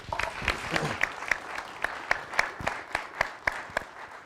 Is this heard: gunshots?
no